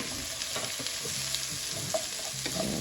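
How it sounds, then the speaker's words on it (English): Peppers and onions hit a hot pan with bacon and sizzle loudly, with stirring scrapes and crackling fat throughout and no voices. "now I'm going to add the peppers and the onions"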